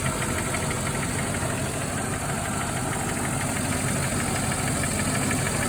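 A running V8 engine with noisy valve lifters, heard close above the valve cover before warming up, gives a dense, continuous mechanical clatter that holds steady and loud from start to finish.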